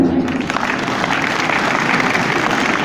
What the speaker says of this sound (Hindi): अब आप चाहें तो ताली बजा सकते हैं